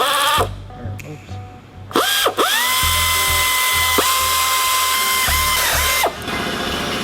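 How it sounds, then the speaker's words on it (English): A power tool tightens turbo bolts on a Nissan 350Z in a twin-turbo build, with loud, close bursts of whirring that rise and stop repeatedly, interrupted by short pauses. "We're just gonna tighten those down now."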